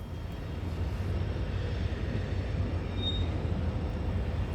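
A Walthers ML-8 Plymouth model switching locomotive runs on battery power, giving a steady low rumbling motor hum with rolling wheel noise that stays constant throughout, close and moderately loud.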